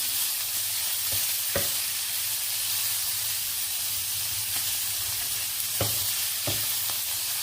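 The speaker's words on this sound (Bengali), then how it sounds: "এখন আমি চিকেনটাকে হালকা একটু হালকা না পুরোপুরি ভেজে নিব" Spiced chicken coated in chili powder, cumin and garam masala fries in a pan with a constant loud sizzle and hiss, broken by a few sharp clicks of a utensil.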